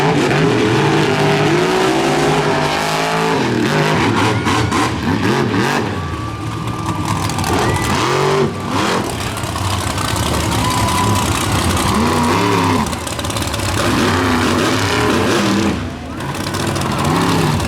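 A monster truck, the flying dump truck, roars and revs at a monster truck show in Lamar, Missouri, with a loud continuous engine rumble rising and falling, while an announcer talks over it.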